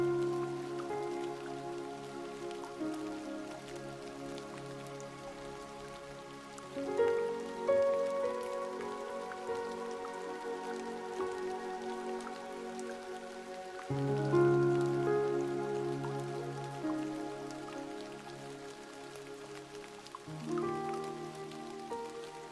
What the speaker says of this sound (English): The rain falls in a calm, tireless rhythm.